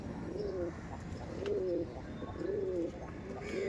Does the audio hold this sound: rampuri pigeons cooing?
yes